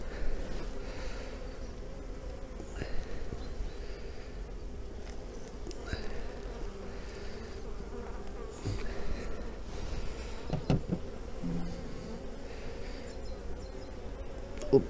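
Honeybees buzzing steadily around an opened beehive, a continuous close hum with occasional clicks and handling of frames.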